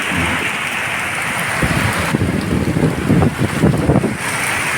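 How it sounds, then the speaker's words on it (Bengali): Heavy storm rain pounds a tin roof at night, a dense, loud roar with gusting wind that swells and thickens toward the middle. "আওয়াজটা তো শুনতেই পাচ্ছ টিনের চাল কী জোরে জোরে সব পড়ছে"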